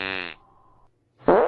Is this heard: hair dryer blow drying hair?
no